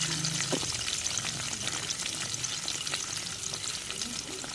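Onions, green chillies and garlic fry in oil for a vanjiram fish head curry, giving a steady, close sizzle and crackle that runs without a break and with no talking.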